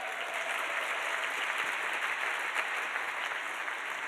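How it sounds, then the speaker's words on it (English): Board members and key partners at a justice conference receive a round of applause from an audience in a room, a dense continuous clapping that stays steady and loud throughout. "if we could just do a quick round of applause for all the board members and key partners in the room"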